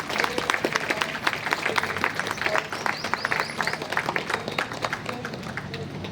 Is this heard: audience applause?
yes